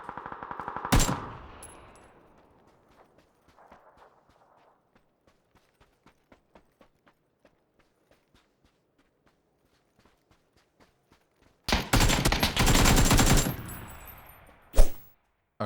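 Gunfire bursts in PUBG on the Karakin map open and close the stretch, loud and dense, with quiet, sparse footstep-like taps in between.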